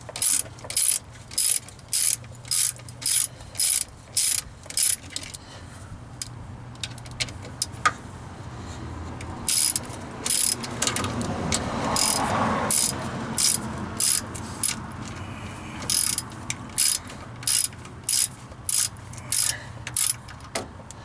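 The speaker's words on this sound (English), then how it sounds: "we take your 10mm, your wrench, and your ratchet" A ratchet wrench turns a 10mm nut on the fuel filter of a Jeep Wrangler YJ, with repeated bursts of rapid clicking, a pause with a rougher mechanical scrape in the middle, then more clicking strokes, close and loud.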